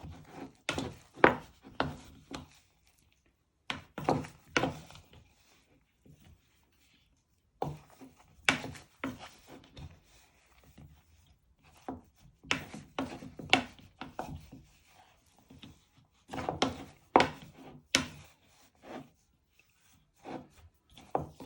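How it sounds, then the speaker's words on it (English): A spoon scrapes and stirs steak pieces in a bowl with two tablespoons of corn flour, coating the beef for beef in black bean sauce: repeated close, rasping bursts with short pauses between, no talking. "And with your spoon, you want to give them more a coating."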